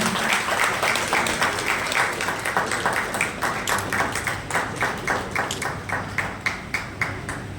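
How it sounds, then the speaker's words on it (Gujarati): An audience applauds at an Indian Red Cross Society gathering in Deesa, with steady, fairly loud clapping whose rhythm grows more distinct and patterned toward the end. "ખૂબ તાળીઓથી વધાવીએ."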